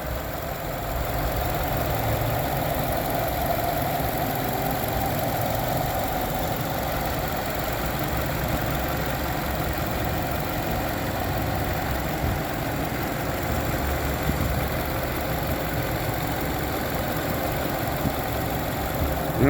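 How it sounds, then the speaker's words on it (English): A car engine idles steadily under an open hood, giving a continuous, even rumble with a faint mechanical ticking that stays at one level throughout, heard close up with no voices. "But here's the engine."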